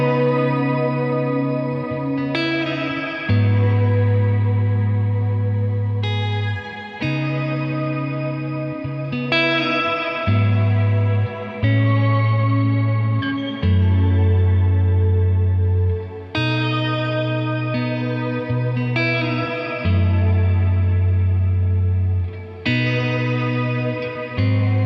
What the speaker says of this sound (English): So we have dynamic reverb, which reacts to the dynamics that you're playing, and it has a shimmer reverb.